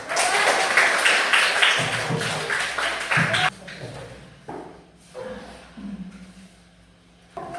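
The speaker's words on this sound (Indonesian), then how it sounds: "Tepuk tangan" Classroom applause from students after a lesson closes, a dense burst of clapping for the first few seconds that thins into scattered claps and shuffling, with a voice speaking briefly near the end.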